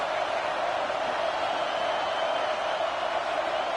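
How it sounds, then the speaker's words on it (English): A stadium crowd at a Georgia vs Kentucky college football game roars steadily as a dense, sustained wash of noise, loud and continuous without a break. "This crowd trying to make life miserable for this offense."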